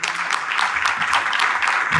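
At an RCM business gathering in India, a hall audience claps loudly and vigorously, a steady burst of many hands with faint voices in the background.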